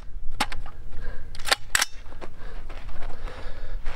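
A rifle is fired to empty its magazine, three loud, sharp cracks with two coming close together near the end, over a constant background rumble and no speech.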